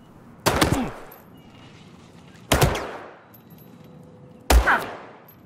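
Three sharp gunshots ring out about two seconds apart, each a loud broadband crack trailed by a rolling echo that fades before the next shot, with no voices.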